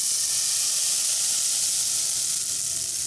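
Extra Crisco sizzles in a smoking-hot skillet for Southern cornbread, a loud, continuous hiss of hot fat frying steadily throughout, with no talking.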